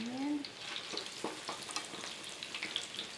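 Piyaju fritters made with julienned onions fry in a pan of hot oil, a busy close sizzle and crackle with a few stirring scrapes, loud and continuous throughout.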